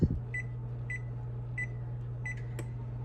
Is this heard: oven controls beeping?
yes